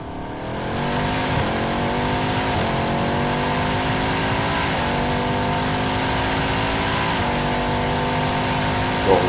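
A Bugatti race car running a full uninterrupted lap, its engine roaring loudly and continuously, climbing in pitch and dropping back at each gear shift.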